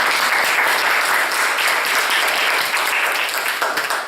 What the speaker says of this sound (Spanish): Nos vamos a dar un aplauso mutuamente.